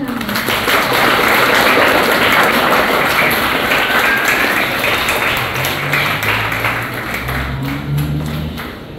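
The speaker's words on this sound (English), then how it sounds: "Please give a round of applause for Dr. Patricia G. Turnbull" Audience applause at an honouring ceremony for Virgin Islands cultural figures, a dense steady wash of clapping lasting the whole stretch with some low rumble beneath and faint voices mixed in.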